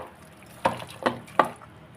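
Chopped onion being hand-mixed with mustard oil and cumin in a bowl, giving three soft, squelchy squishes spaced about evenly apart, close and fairly quiet with no talking.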